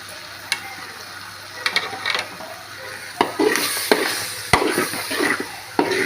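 Fried beef tripe (boti) being stirred with a splash of vinegar in a pan, a low steady sizzle broken by scattered scraping and clacking strikes of a utensil against the metal, close and fairly loud.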